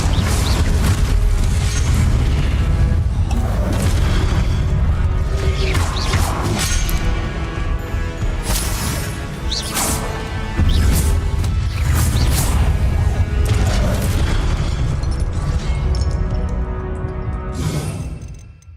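Spell effects from Hogwarts Legacy gameplay, an Incendio fire spell among rapid casting: loud, dense crashes, whooshes and booming impacts repeating over a continuous game soundscape.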